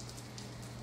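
Steady rain pours down during a nighttime thunderstorm with lightning, a dense continuous hiss of drops on surfaces heard close by with no talking.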